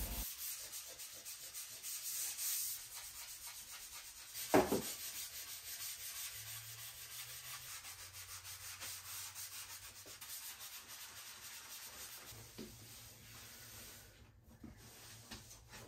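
Wood filler is being removed by scraping instead of sanding during a bathroom renovation, a close, steady rubbing rasp that keeps going for the whole stretch, with a sharp scrape partway through and no talk.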